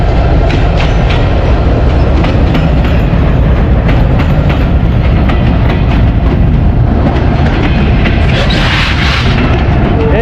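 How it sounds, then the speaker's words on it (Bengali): Panchagarh Express train passes close by, a loud, continuous roar and rumble of wheels and carriages that fills the whole stretch without a break. "এই হচ্ছে আমাদের সেই পঞ্চগড় এক্সপ্রেস"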